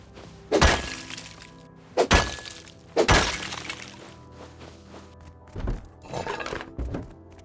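In the survival video game Rust, a pickaxe strikes stone in three loud, sharp, cracking impacts about a second apart, followed by a few fainter hits and rubbly debris.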